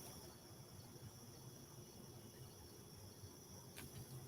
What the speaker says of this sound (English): You can hear the crickets and the night tree toads.